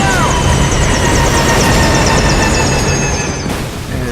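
Helicopter taking fire and going down in the Metal Gear Solid 5: Ground Zeroes game: a loud, continuous rotor and engine roar with whining tones and gunfire-like crackle through most of the clip, easing off near the end.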